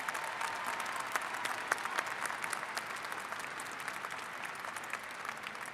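Sustained applause from a large audience at a summer/fall commencement ceremony honoring graduates, a dense steady wash of many hands clapping at moderate distance throughout, with no one speaking over it.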